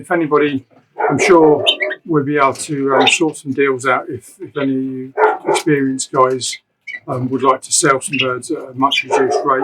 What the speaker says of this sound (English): excuse the dog barking in the background